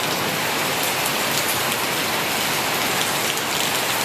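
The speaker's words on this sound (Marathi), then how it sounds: "आता जबरदस्त पाऊस आला आहे बघा" Heavy rain pours steadily, a dense hiss of drops drumming on surfaces with no pauses and no voices.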